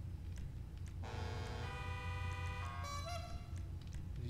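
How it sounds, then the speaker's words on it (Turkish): A car horn sounds in GTA 5 during a Zentorno customization menu, over a low rumbling engine idle. There are two sustained, tonal blasts, and the second has a shifted pitch, after a second of idle. "Korna."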